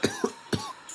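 A man coughs three times in quick succession, close and sharp, with a faint throat sound trailing after.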